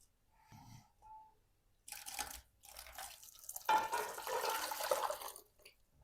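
Boiling water is poured from a one-liter jar over linden blossoms, with a few brief knocks and clinks and then a gushing, splashing pour that rises in intensity, close and uneven, alone.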